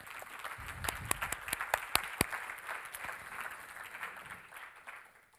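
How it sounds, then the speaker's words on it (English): Scattered applause from a modest audience at a science park event, distinct individual claps building briefly then thinning out and fading, fairly quiet and distant. "A big applause"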